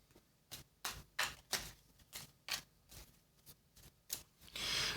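A run of crisp, rapid card riffles and flicks in uneven bursts as the advancement deck of the board game Dragon Eclipse is shuffled, close up, ending in a longer whooshing riffle; no talking.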